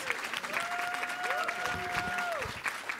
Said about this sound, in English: can we give a just warm round of applause to all of our Bachelor of